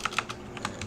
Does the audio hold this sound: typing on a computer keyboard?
yes